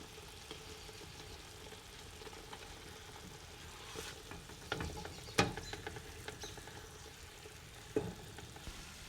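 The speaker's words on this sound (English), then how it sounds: "Then put the cooking pot on the stove and let the meat brown on low heat." Lamb pieces brown over low heat in a cooking pot on the stove, a faint low sizzle with occasional scrapes and knocks as the meat is turned.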